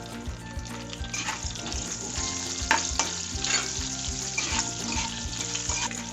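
Cauliflower pieces fry in a hot pan for paneer curry, a steady dense sizzle with crackling spatters and occasional scraping stirs, close and continuous throughout.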